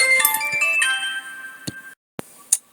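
A phone ringtone for an incoming call plays a bright electronic melody for about two seconds, then breaks off, followed by a couple of short clicks.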